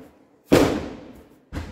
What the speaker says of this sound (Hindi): स्टेशन पर खूब आतिशबाजी हो रही है, आपको आवाज आ रही होगी।